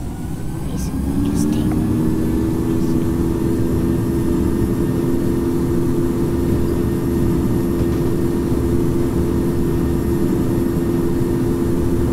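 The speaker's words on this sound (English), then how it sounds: "now it's time for takeoff." A flight video game airplane powers up for takeoff, its engine holding a loud, steady low drone with tonal bands that continues unbroken throughout.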